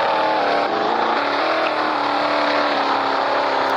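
A stolen Lamborghini's engine holds a steady, loud drone with slight pitch shifts, close by and continuous, with no talk over it.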